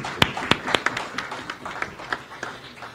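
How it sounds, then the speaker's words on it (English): Scattered claps from a small audience at a crime prevention programme event, a few sharp loud hits early then thinning into lighter, sparser clapping over a few seconds. "give yourselves a round of applause, please"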